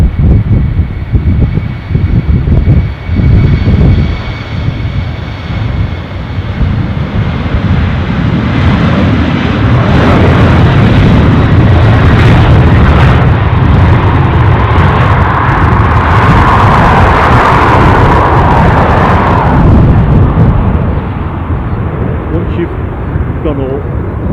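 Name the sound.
aircraft engines at Dublin airport, FedEx 767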